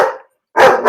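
A dog gives two loud, close barks in quick succession at someone by the front door, separated by a short silence.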